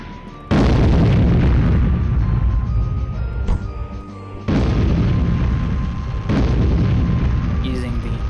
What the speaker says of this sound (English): I'm just going to use the apocalypse cannon